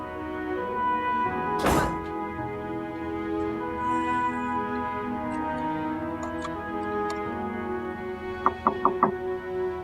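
Knocking on a closed door in a drama scene: one heavy thump early on, then a quick, crisp run of four raps near the end, all set over a steady sustained musical background.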